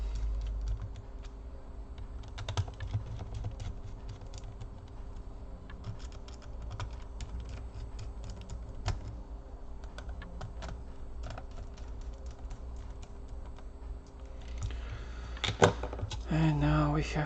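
Screws being tightened into the keyboard of an HP EliteBook Folio 9480m laptop: faint, scattered small clicks and ticks in a quiet room, with louder handling noise near the end.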